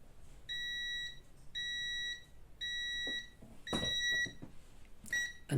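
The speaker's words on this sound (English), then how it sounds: "the beep tells you you've got a mains wire there, you've got voltage" A multimeter on voltage-detect mode beeps as it senses a live mains wire near a plugged-in router, giving four evenly spaced high electronic beeps, close and clear, followed by some handling clatter.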